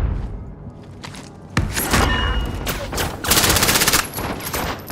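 Gunfire in the online shooter Call of Duty, set in Verdansk: rapid bursts of shots and heavy thuds come close and loud, with no one talking.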